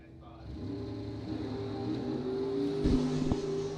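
A Copo Camaro drag car at a bracket race revs with a steadily climbing engine drone, its RPMs rising, heard from a distance with crowd ambience and a faint voice underneath.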